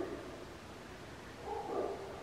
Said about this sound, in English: Sorry about the barking dog out there.